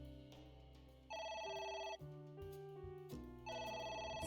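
A phone rings in the AI The Somnium Files video game, a loud electronic ringtone in repeating bursts of bright tones over a low backing hum, with no talk.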